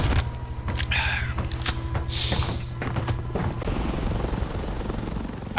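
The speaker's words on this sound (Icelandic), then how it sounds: "I bring the chopper." Helicopter in the video game Warzone, a continuous rotor thrum and engine drone running throughout, with scattered gunfire, booms and mechanical clicks over it.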